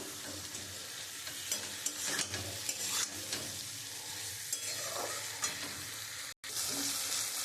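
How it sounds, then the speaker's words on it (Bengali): Bitter gourd sautés in a spiced mustard paste, giving a continuous sizzle broken by repeated spoon scrapes and stirring knocks against the pan. "আমি উচ্ছেটা দিয়ে একটুখানি কষাবো।"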